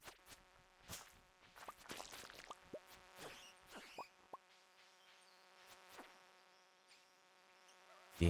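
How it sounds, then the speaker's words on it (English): A bee buzzing as it hunts the player in a video game: a sharp insect drone that swells and fades in quick passes, loud up close and then thinning out, with no voices. "Being hunted by a bee."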